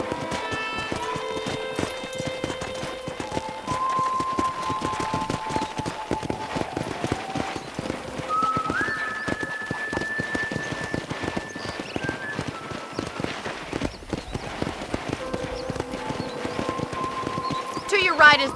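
Steady clip-clop of horse hooves at a walking pace in the video game Red Dead Redemption, layered under background music and a voice talking.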